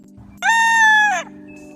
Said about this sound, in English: I heard a chicken too